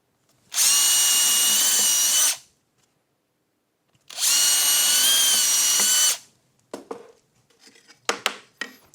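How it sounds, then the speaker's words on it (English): A power drill whines in two sustained bursts of about two seconds each while drilling through wood and a glue layer, followed by scattered clicks and knocks. "then you can drill with more confidence"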